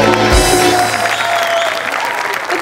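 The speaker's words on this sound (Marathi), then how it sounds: "जोरदार टाळ्या." An audience at a Marathi television game show breaks into applause, a dense, steady clatter of clapping that fills the whole stretch loudly, with some voices mixed in.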